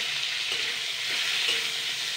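Boiled, peeled potatoes frying in oil in a pan give a steady, close, loud sizzle with a hiss that barely changes and faint stirring scrapes under it.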